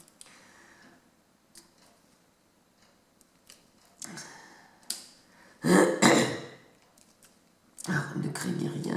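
A person with a lingering cough clears their throat and coughs in a few short, rough bursts close by, separated by quiet moments in a calm indoor room.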